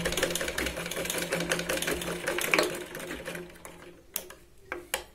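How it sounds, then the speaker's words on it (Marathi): Sewing machine running a straight seam along the waist side of a big-size Katori blouse, a close, steady mechanical whir that stops midway, leaving a few sharp clicks and taps. "आपण इथे कमरेच्या साईडने सरळ शिलाई लावून घ्यायची आहे."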